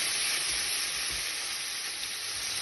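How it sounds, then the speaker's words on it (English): Diced beef fries in a pan for beef stew, making a steady, even hissing sizzle close by with a few soft low bumps and no talking. "Put it in the pan to fry."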